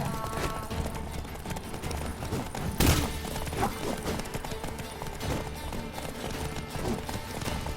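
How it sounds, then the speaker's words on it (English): Horse hooves clatter in a fast clip-clop during a horse chase in The Witcher 3, a running rhythmic patter under game noise with a sharp impact near the middle, moderately quiet throughout. "Some dramatic horse chase action going on here."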